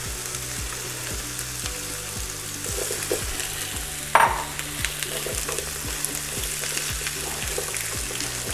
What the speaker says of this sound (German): jetzt gebe ich als erstes meine Zwiebeln und meine Paprika in die Pfanne.